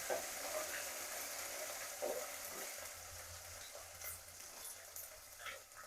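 Ginger garlic paste frying in a pan for an Andhra-style wild mushroom curry, a soft steady sizzle with occasional stirring scrapes, faint and close.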